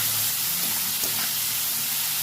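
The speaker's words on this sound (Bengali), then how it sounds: "তারপরে আমি করলা দিয়ে দেবো, লবণ দিয়ে দেবো, হলুদ দিয়ে দেবো। কড়াটা ভালো করে ভেজে নেব।" Bitter gourd frying in hot oil in a kadai with salt and turmeric, a steady dense sizzle that stays level throughout, close and loud with no voices.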